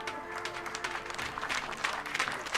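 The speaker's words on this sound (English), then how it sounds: "a warm round of applause" Audience at a compound women's archery final applauding the archers, a steady, dense wash of clapping that holds throughout, with crowd noise underneath.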